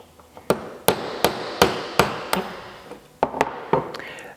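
A punch is tapped with a hammer to drive a pin out of a Savage rifle bolt, about ten sharp, close metallic knocks at a fairly even pace, with brief pauses between them.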